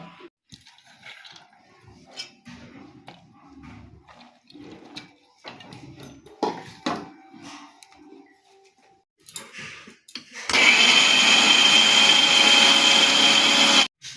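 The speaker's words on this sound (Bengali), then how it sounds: "এবার আমি এটাকে মিক্সিতে পেস্ট করে নিয়ে বড়াগুলো ভেজে নেব।" After quiet kitchen clatter and handling, an electric mixer grinder roars loudly and steadily for several seconds, grinding soaked pea dal into a paste.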